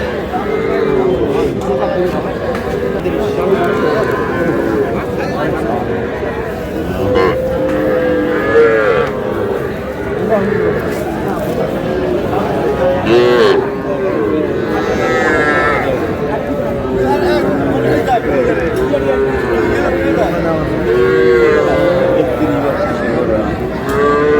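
Bull calves moo repeatedly amid a busy livestock market crowd in Comilla, with lots of people chattering and calling out throughout.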